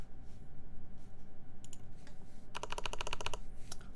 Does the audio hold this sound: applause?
no